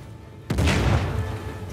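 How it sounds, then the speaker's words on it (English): A C4 explosion in Uncharted: The Lost Legacy, a single sudden loud blast after a quiet moment, followed by a rumbling roar that slowly fades but is still ringing at the end. "It's another explosion"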